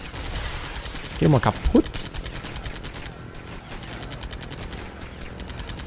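An enemy fires wildly in LEGO Batman with a short burst of sharp gunshots and impacts near the middle, alongside game noise and someone speaking German.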